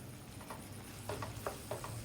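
Fish frying in a pan with ginger and garlic, giving a soft steady sizzle with a few light crackles and pops, fairly quiet and close, with no voices.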